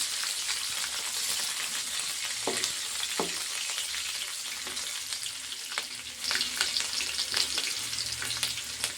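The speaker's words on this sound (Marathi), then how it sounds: "आणि त्याच्यानंतर घ्यायच्या हिरव्या मिरच्या। त्याला आपण हलवून घेऊ।" Green chilies fry in oil for a fasting-day potato bhaji, a loud close sizzle carried throughout with occasional spoon scrapes and knocks as they are stirred.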